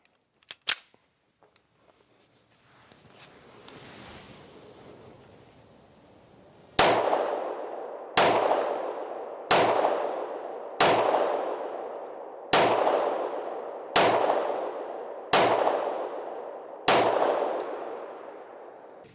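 Handgun shots fired standing with a firm grip and no rest at an outdoor range: one early pop, then seven sharp, evenly spaced reports about every 1.5 seconds, each loud and close with a ringing decay.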